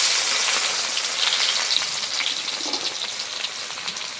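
Chopped garlic hits hot oil in a home cooking pan, giving a steady, loud, crackling sizzle that holds without pause throughout.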